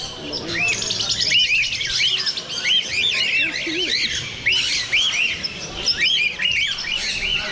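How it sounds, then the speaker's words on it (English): Parrots and other exotic birds at a bird expo fill the hall with dense, repeated chirps, tweets and squawks, loud and close, over a murmur of crowd noise. "As you can see, they got all kinds of birds here."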